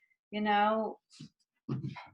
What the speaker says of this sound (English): I'm sorry if you hear my dog in the background.